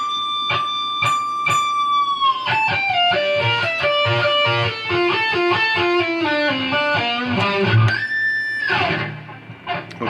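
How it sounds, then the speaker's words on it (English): Electric guitar playing a solo lick from a song, with heavily effected, sustained distorted notes, quick repeated picked phrases, then a run of descending bends and vibrato held loud throughout. "So that whole lick, all up to this point, should look and sound like this."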